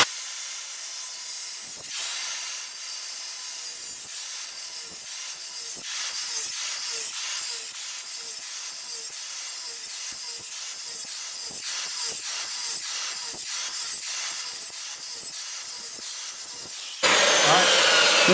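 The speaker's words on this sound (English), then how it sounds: "I'm going to cut down each line and then cut everything out in between there" A hand saw cuts wood to form a recess for an old English-style pool gate, with a long run of rhythmic back-and-forth strokes that stops short near the end as a louder burst of noise takes over.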